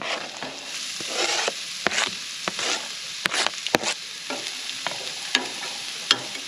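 Garlic and onion frying in a camp pan over low heat, a steady close sizzle with scattered crackles and pops, no talking.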